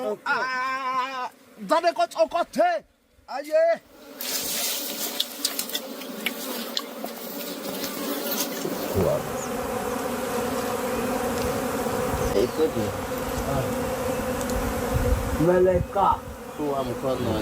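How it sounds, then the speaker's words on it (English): Dense bee buzzing swarms loudly and continuously around a wild hive, a thick droning hum with voices heard faintly at the start before the swarm takes over. "the hunters use smoke to calm the bees before carefully harvesting the honey-filled combs"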